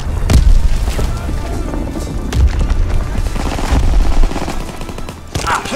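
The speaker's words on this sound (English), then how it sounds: "Fritz X bomb mission underway!" Fritz X bomb explosions boom heavily amid rattling gunfire in Call of Duty WWII, a dense, loud, continuous barrage of blasts and shots.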